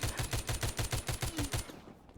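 Rapid bursts of gunfire from a zombie shooter video game, The Walking Zombie 2, fire in an even automatic rhythm of about ten loud shots and then stop abruptly.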